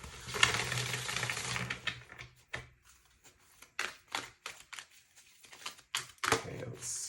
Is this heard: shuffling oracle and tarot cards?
yes